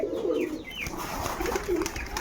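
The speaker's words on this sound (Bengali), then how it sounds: "রাজশাহীর পুরাতন জাতের কিছু কবুতরে এখন বাজি দেখবো" Old Rajshahi breed pigeons coo close by, with a few soft, rolling coos repeated over two seconds and little else around them.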